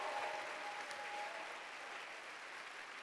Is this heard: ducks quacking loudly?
no